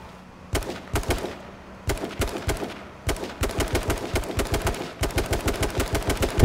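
Gunfire in the video game H1Z1 during a car chase: rapid bursts of shots in quick, regular volleys separated by brief pauses, loud and close, with no talk over them.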